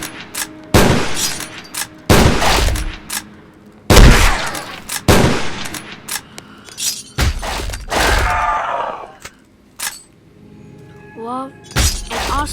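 Gunfire in the Dead Rails video game, loud single shots and short bursts arriving in irregular clusters with sharp attacks and ringing tails, some impacts that sound like breaking, close and dominant throughout.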